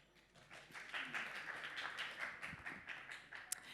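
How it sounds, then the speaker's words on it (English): Audience applause at a live stage event, a steady wash of many hands clapping at moderate distance with a few sharper individual claps standing out. "So, huge round of applause to him."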